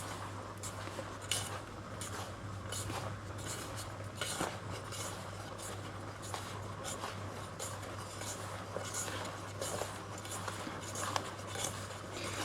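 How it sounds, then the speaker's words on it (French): Flour, sugar and butter for an apple crumble being mixed in a bowl, giving a steady, close scraping and stirring with light clinks of a utensil against the dish, no talking. "Et là on mélange."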